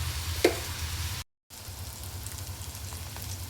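Pieces of ridge gourd fry in a pan with a steady low crackle and sizzle, a single sharp tap of a spoon near the start and a brief dropout before the frying resumes alone.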